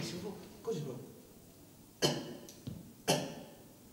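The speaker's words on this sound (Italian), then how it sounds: "devi fare due piccoli colpi di tosse, proprio leggerissimi" A couple of soft, light coughs sound close by in a quiet room, short and spaced apart.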